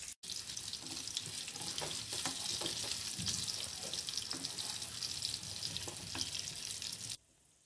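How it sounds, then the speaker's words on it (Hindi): Boiled potatoes fry in ghee with a steady, hissing sizzle that runs close and constant, broken by a few faint stirring knocks, then cuts off abruptly near the end. "आलूओं को भी हम गोल्डन कलर आने तक फ्राई करेंगे।"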